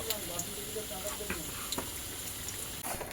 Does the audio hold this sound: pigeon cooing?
no